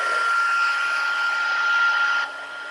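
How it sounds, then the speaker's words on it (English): A heat embossing tool blowing hot air to melt embossing powder, a steady close whooshing hum that drops in level near the end, with no talking. "I like to turn the tool on for a few minutes, let it heat up, and then emboss."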